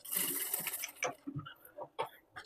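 A sewing machine stitches a blouse in short bursts, the whirring needle starting and stopping several times at close range amid small handling clicks.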